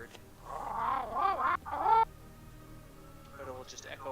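A tabletop D&D player imitates bird calls in a clucking, squawking voice, a few loud warbling bursts close up followed by quieter chirps.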